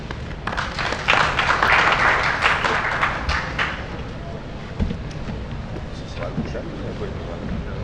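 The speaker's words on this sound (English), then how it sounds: "a round of applause for all of them" Audience applause for the panelists closing a plenary session on small and medium enterprises, a dense swell of clapping that peaks early and then thins out into scattered claps and room noise.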